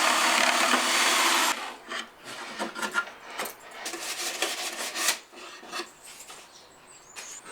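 A hand file or rasp works close up on a wooden cabinet, cutting a small notch for a hinge. A loud steady rasp comes first, then a string of shorter, uneven scraping strokes.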